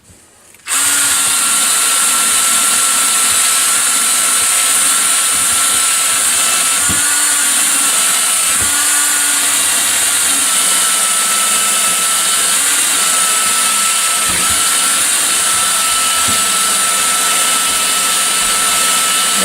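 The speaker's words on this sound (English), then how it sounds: "Our own little wire wheel brush to kind of clean up the bore" A small wire wheel brush spins steadily against the cylinder bore of a 1966 Honda Benly engine, a loud, continuous drill-like whine that starts abruptly and holds for the whole stretch, with a few faint knocks beneath.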